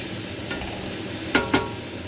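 Onion, garlic and pork fry loudly in a pan with a bright, constant sizzle, broken by two quick clatters of a utensil stirring near the end.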